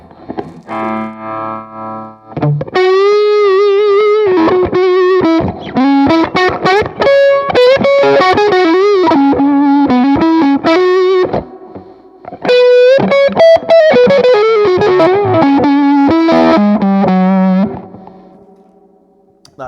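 A '50s Gibson Les Paul Standard Goldtop electric guitar played through an effects pedal, with melodic single-note lines and chords, a thick driven tone with modulation, sustained phrases and a fading final note.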